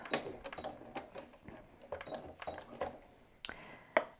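A sewing machine set up for free-motion quilting takes a few stitches to draw up the bobbin thread, producing sharp, irregular mechanical clicks and taps at close range that are fairly quiet overall.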